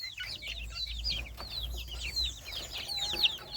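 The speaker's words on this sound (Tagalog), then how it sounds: "Update sa mga pasisiyo natin doon sa mga medyo malalaking lahi ng manok." Flock of large-breed chicks and chickens clucking and peeping continuously at close range on a provincial farm, overlapping chirps with a low background hum.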